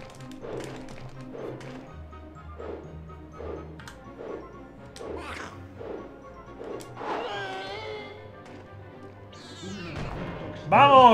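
Cat meowing in the PlayStation game Harry Potter and the Chamber of Secrets, a series of repeated short meows in a steady rhythm over a low musical hum, followed by longer drawn-out cries.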